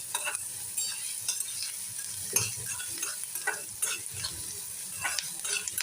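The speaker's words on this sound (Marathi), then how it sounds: "आता हा कांदा चांगला तळून घेऊया." Onion frying with salt in a pan for a red amaranth greens dish, a steady close sizzle broken by repeated stirring scrapes of a spoon, with no voices.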